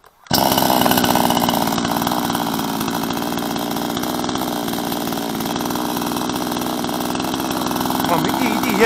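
A Chinese-made gasoline chainsaw starts with a quick catch and then runs at a steady, buzzing idle, loud and close throughout, while a person talks over it.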